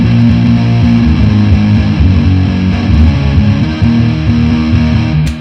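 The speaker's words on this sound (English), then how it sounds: "That was the Electro Harmonics Big Muff, so big fuzz pedal." A J Mascis Squier Jazzmaster on the bridge pickup runs through an Electro Harmonix Big Muff fuzz pedal, giving a loud, thick, sustained fuzz-distorted chord riff that plays steadily throughout.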